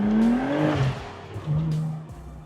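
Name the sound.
Nissan 300ZX accelerating in first gear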